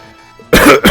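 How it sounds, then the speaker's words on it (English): A man's cough during a Final Fantasy marathon game session, a single loud, close burst of coughing following a quiet stretch, with a brief dip and a second smaller cough at the end. "I do apologise for all the coughing."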